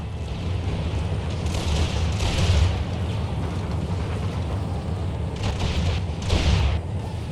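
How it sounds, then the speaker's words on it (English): Musket volleys crack out across an Empire: Total War battlefield as two distinct bursts of massed fire, each a rolling, rumbling crackle rising over steady low battle ambience, with no talking. "Firing their volley"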